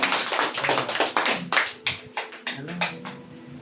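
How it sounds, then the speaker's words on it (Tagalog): A church congregation claps hands in praise for the Lord, a brisk run of close, crisp claps that thin out and slow toward the end, with a voice speaking underneath. "Palakpakan natin ang Panginoon."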